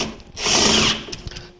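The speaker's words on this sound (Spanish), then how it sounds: "Les aconsejo conseguir en su caja de herramienta una punta Torx T20, pero la corta, para que podamos meter nuestro taladro," A power drill driving a short Torx T20 bit into wood spins up with a brief whirring burst of about half a second, then winds down to quieter clicks.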